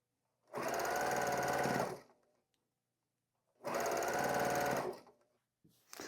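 A sewing machine stitches quilt seams in two bursts of about one and a half seconds each, a fast, close, even whirring hum, separated by silence, with a third burst just starting at the end.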